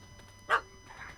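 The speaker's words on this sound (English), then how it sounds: "Don't know how to handle yappy little dogs?" A yappy little dog in The Witcher 3 lets out a single sharp bark midway, followed by a fainter whiny yip against a quiet game background.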